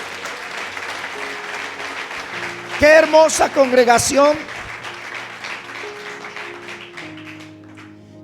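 Church congregation applauding at an anniversary service, a burst of clapping of about two seconds in the middle, with a voice speaking before and after over a soft, sustained background tone.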